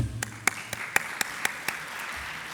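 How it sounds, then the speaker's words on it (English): Sparse, quiet clapping from a conference audience for a panel of speakers, a handful of distinct claps spaced about a quarter second apart over a faint background hum. "Let us give very warm applause to all of these speakers."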